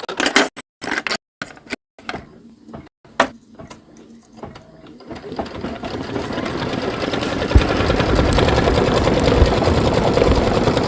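An embroidery machine stitches a decorative outline on heat-transfer vinyl. Scattered clicks and taps give way to a loud, steady, rapid mechanical whirring and stitching that continues to the end.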